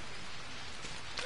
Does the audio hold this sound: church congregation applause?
no